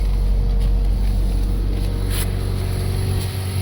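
A 2013 Mazda 6 with a 2.5-litre petrol engine running steadily in cool outdoor weather, a loud, constant low hum throughout with no voices.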